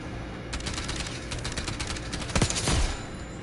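Rapid automatic gunfire from a gun in Call of Duty Black Ops 6, a dense, steady stream of close, loud shots with a few heavier impacts near the end.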